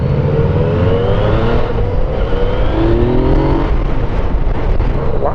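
A 2017 Yamaha FJ-09 motorcycle engine drones loud and steady while the bike is ridden over bumps, with a continuous close-up roar and no talking.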